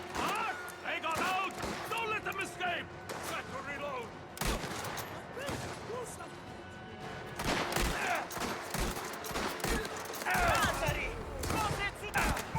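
Rapid bursts of gunfire in the video game Mafia: The Old Country crackle repeatedly over background game sounds, with a person talking now and then.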